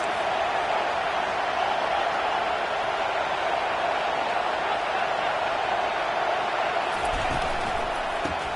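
A football stadium crowd roars as a steady, dense wash of noise, constant and loud from start to finish with no single voices standing out.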